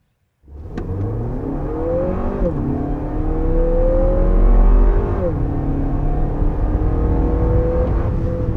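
A 2022 Lexus NX 350 with a turbocharged four-cylinder accelerating hard from 0 to 60 mph, its engine droning loud and close from inside the cabin, rising in pitch through two gear shifts.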